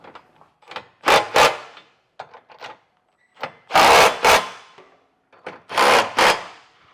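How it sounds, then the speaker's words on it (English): A 19mm socket on a ratchet snugs down trailer hitch nuts on a 2026 Chevrolet Equinox, giving three separate bursts of rapid ratcheting clicks, each lasting about a second, close and fairly loud with short pauses between. "I'm going to come back with a 19mm socket and get these all snugged down."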